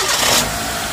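A car engine with a newly installed starter relay cranks and catches in one short burst, then settles into a steady mid-pitched idle, fairly close.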